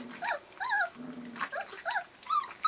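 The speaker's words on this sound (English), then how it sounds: "Oh, that one's really growling in the corner." A three-week-old poodle puppy gives small growls mixed with squeaky whimpers and yips, short bursts repeating close by and fairly quiet.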